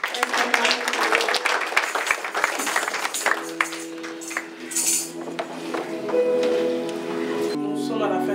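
A church congregation claps to acclaim the Lord at the close of a service, a dense, steady patter that fades as sustained music swells in.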